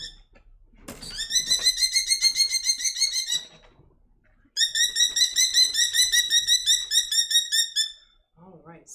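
A small female merlin falcon named Spitfire screams loudly and close by in two long bursts of rapid, harsh, repeated calls, with a short pause between them.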